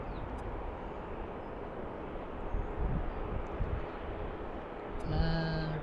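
An airliner arriving at BWI airport passes as a broad, steady engine roar that swells slightly midway, heard from a distance, with a brief tonal whine near the end.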